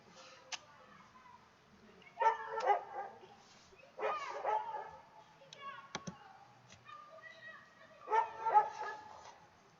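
Several dogs bark outdoors on a hazy evening, a few separate bursts of barking and yips at moderate distance, with quieter gaps between them.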